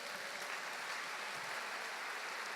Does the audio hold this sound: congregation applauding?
yes